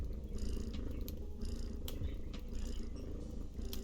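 A cat purrs steadily and close up in a low continuous rumble, heard alone with a few faint clicks above it and no talking.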